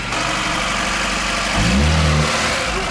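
An old Moskvich car engine runs just after being started, a loud, rough mid-to-low rumble that swells into a brief rev partway through and then settles back, close by and heard without any talking.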